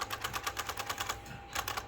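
A semi-modern electric typewriter clacks in a fast, even run of crisp keystrokes, pauses briefly, then resumes with another burst of typing, heard up close with a faint motor hum underneath and no speech.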